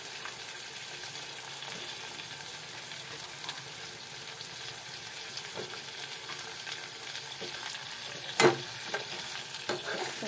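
Tomato and capsicum stirred and frying in a pan, a steady soft sizzle with faint scraping strokes, one sharper clack near the end.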